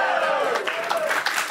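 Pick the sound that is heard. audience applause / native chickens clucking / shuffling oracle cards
audience applause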